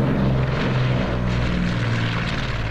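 Steady drone of a bomber's propeller engine in the Order of Battle: Winter War strategy game, set around Suomussalmi, a continuous fairly loud hum with no talk over it.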